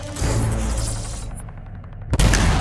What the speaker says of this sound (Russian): Это гиперпушка, мощное оружие. Ее выстрелы можно усиливать